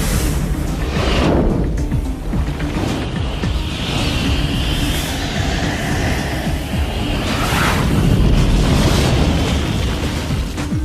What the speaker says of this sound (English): What followed were the largest explosions ever witnessed in the solar system.